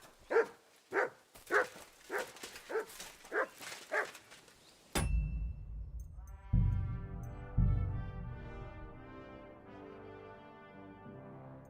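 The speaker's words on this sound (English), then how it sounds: "Good dog, Mutt. Show me." The dog Mutt barks in Kingdom Come: Deliverance 2, a run of about seven evenly spaced, clear barks, then a heavy thud followed by swelling, lingering tonal game sounds.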